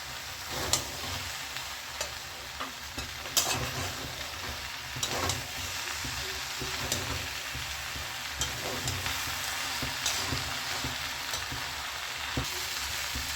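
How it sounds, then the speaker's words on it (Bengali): Mixed vegetables with fig fry in a pan with cumin, mustard, coriander and dried red chilli. A continuous close sizzle carries through, with frequent spatula scrapes and knocks against the pan and no voices. "তো মশলাটা দিয়েও আমি ভালো করে মিনিট 5 কষিয়ে নেব"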